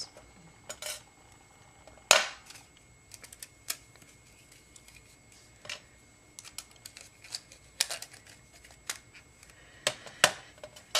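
Sharp metallic snips from cutters slicing jewelry wire into 4-inch lengths for a wrapped floral stone, a few distinct close clicks spread among quieter handling taps.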